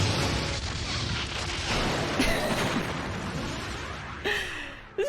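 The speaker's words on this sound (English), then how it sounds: "Borg cube is firing." Weapons fire from a Borg cube in the 1996 Star Trek: Borg game, a dense sustained rumble of blasts and bursts with a sharp swooping discharge near the end, loud and continuous.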